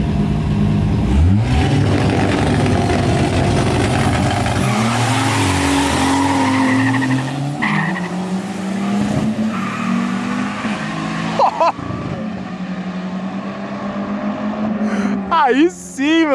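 A turbocharged Chevrolet Omega at a drag race launches with loud tire squeal and engine roar, revving hard and fading as it pulls away, followed by more skidding and revving near the end, with crowd voices in the background.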